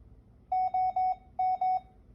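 A medical device alarm beeping in two groups of short, steady tones, three then two, clear and fairly quiet with no talk.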